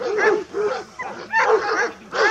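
A three-year-old Romanian shepherd dog on a mountain sheep farm with Suffolk sheep barks in a steady run of loud, close, yelping barks and whines, several in a row with short gaps.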